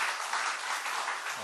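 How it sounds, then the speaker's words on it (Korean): A church congregation applauds newly ordained deacons at a Korean ordination thanksgiving service, a steady, full burst of crowd clapping throughout. "귀한 일꾼 세워주신 하나님께 우리 감사의 또 영광의 박수를 드리겠습니다"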